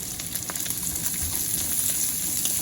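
Preserved pork belly sautés in a pan for fried rice, giving a continuous close hissing sizzle with faint crackles, no stirring evident.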